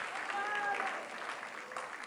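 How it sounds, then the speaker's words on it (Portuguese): A church congregation applauds in a steady burst of clapping, fairly distant in a reverberant hall, with some voices heard over it. "Aplaudam mais uma vez."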